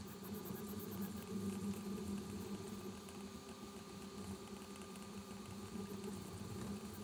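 A Voron V0 3D printer runs a print of a Benchy test boat, giving off a steady, fairly quiet mechanical hum with a low motor drone and faint high whine, continuous and unbroken throughout.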